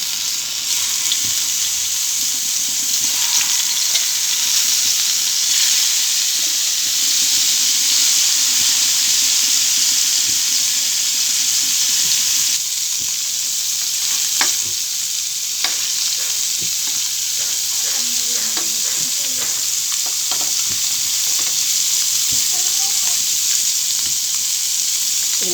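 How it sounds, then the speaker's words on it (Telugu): Marinated fish coated in homemade masala fries in oil in a pan over medium heat, giving a loud, steady sizzle and hiss close up with occasional stirring clinks and no talking. "మంచిగా కొంచెం మంట మీడియంలో పెట్టుకొని ఫ్రై చేసుకోవాలి."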